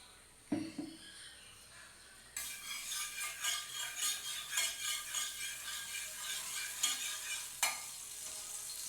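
Pumpkin and eggplant hit hot mustard oil in a pan, a loud, continuous close sizzle with rhythmic stirring pulses after an initial clatter, no talking.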